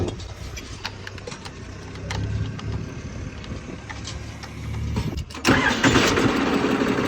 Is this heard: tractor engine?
yes